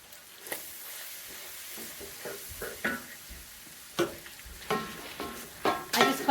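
A hamburger patty sizzles in a pan at home, with a steady frying hiss and intermittent scraping and stirring clatter close by.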